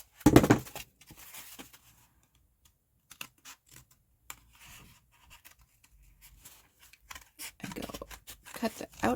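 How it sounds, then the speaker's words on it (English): Scissors cut through a cardboard egg carton, removing its top, with close snipping crunches and rustles, busy at the start and end and sparser in between. "what I do is I completely cut the top off"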